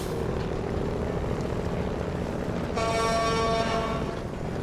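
Truck engine in the off-road driving game SnowRunner, a steady loud droning rumble that holds throughout, with a brighter whining tone rising partway through.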